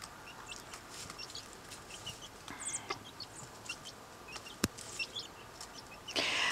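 Backyard chickens cluck softly while pecking at squash and mealworms, scattered quiet clucks and small pecking sounds over low background noise, with a brief louder burst near the end.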